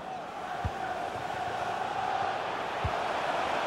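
Stadium crowd noise from a FIFA 21 match between QPR and Bournemouth in the EFL Championship, a steady broad roar of thousands of fans holding at an even level throughout, with a couple of low thumps rising out of it.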